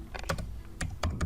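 Several close, crisp keyboard key presses on a computer keyboard, in short clustered bursts, as a Ctrl+Shift+greater-than shortcut is typed to enlarge text in Photoshop.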